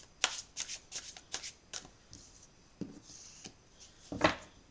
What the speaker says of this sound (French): alors je vais prendre quelques cartes du Dixit